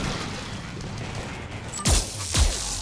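Grenade explosions in Mass Effect 3 combat, two sharp booming blasts in quick succession near the end with low thudding tails, rising out of a steady background of gunfire and battle noise.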